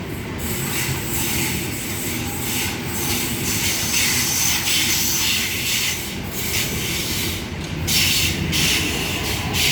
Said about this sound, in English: Kayama via Wollongong service now about to pass through platform number 2